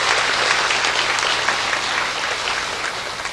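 A church congregation gives a sustained round of applause to thank its ushers, offering collectors and parking volunteers, even and loud throughout with no talking.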